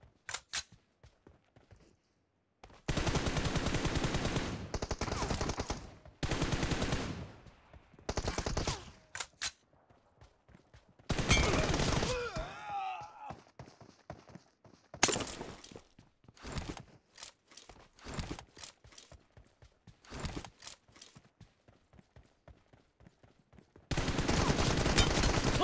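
Rapid M416 assault rifle bursts ring out during a PUBG Mobile team deathmatch: loud, repeated volleys broken by short pauses and single shots, with brief quiet stretches between engagements.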